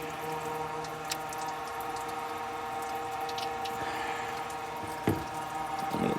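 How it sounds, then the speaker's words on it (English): Coolant dribbles and trickles steadily from a hose on a 1958 Cadillac Biarritz with a bad water pump, a close, continuous low splashing with one brief sharper splash near the end and no talking. "Let that dribble, dribble, dribble."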